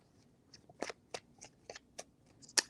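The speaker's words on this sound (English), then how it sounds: "3 shuffles." Tarot cards being shuffled by hand, a series of crisp riffling bursts at irregular short intervals, close and fairly quiet, ending with a sharper snap.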